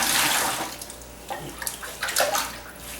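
Water splashes and drips as a large sponge soaks up and is squeezed out while a toilet bowl is emptied during installation, with a gurgling rush at first and then scattered close trickles and drips.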